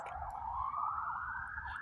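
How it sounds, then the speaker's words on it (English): Emergency vehicle sirens pass outside near a home's driveway, sounding as a steady wailing tone that rises slowly in pitch and stays moderately loud throughout. "the sirens are loud."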